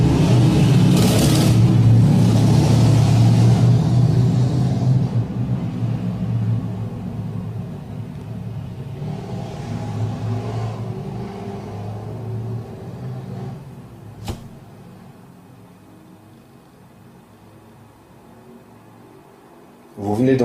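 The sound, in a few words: two-wheeler motorbike with loud engine revving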